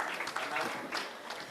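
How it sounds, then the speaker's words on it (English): Moderate audience applause at a diplomacy and sustainability panel discussion, a fairly quiet, uneven patter of clapping from a seated crowd that lasts about a second and a half. "A round of applause, please"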